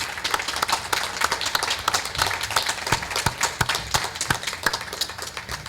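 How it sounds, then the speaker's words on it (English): A crowd applauds steadily, many hands clapping in a dense, continuous patter with no talking over it. "Can we give them a round of applause?"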